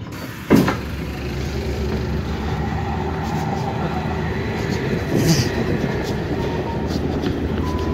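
Steady low rumble and rattle of a moving Dutch train heard from inside the carriage, with a brief thump near the start and faint background voices.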